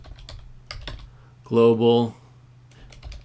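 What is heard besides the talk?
typing git commands on a computer keyboard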